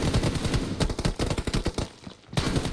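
Rapid bursts of automatic gunfire in PUBG Mobile, sharp, loud, evenly spaced shots in quick succession with a brief pause before a final volley, no voices.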